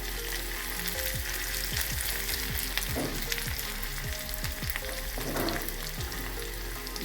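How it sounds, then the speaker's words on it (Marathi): Chopped onion frying in oil in a pan for oats upma, a loud steady sizzle with crackling pops and two short bursts of stirring. "कांदा छान परतून घ्यायचा, खूप लाल नाही करायचा"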